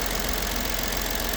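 A 2013 Lincoln MKZ with the 3.7L engine, valve cover leaking oil, idles steadily with a constant mechanical hum and fine ticking, close and even throughout, no speech.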